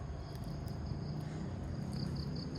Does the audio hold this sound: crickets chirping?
yes